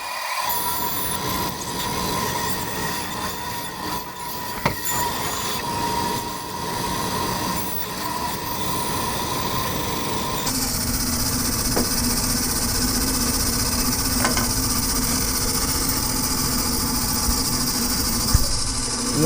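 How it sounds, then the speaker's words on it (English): Bandsaw cutting around the outside of a CNC router dust boot, a continuous loud whirring and screeching hum with a shift in pitch midway, no talk. "we can cut the entire outside with the bandsaw here"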